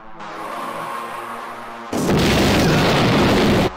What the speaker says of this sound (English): why does the explosion linger for so much?